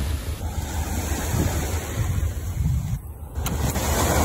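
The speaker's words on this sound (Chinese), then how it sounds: "听到海浪声" Sea waves break and wash continuously at a coastal fishing spot, a loud rushing surf with wind noise on the microphone and no voices.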